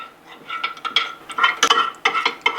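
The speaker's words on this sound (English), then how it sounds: "Give them a nice stir until well combined." Beef and shrimp being stirred with cornstarch, oyster sauce and wine in a bowl, a quick run of close, irregular utensil clinks and scrapes against the dish.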